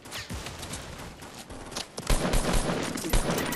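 Rapid rifle gunfire in the Fortnite video game at Tilted Towers, loud repeated bursts of shots growing denser in the second half, with no talk over it.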